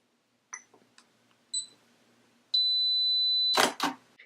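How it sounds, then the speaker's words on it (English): A Fuji X-T1 camera's self-timer gives two short electronic beeps, then a sustained tone, followed by the sharp mechanical click of the shutter firing, close and clear in a quiet room. "you notice that it made that beeping and flashing during that period"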